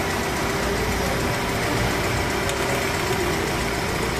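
A Toyota Corolla Big Body engine idles with the number 4 spark plug high-tension wire pulled, running rough with a steady, dense mechanical rumble and vibration close up, without pauses or talk.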